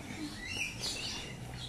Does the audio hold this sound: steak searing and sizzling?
no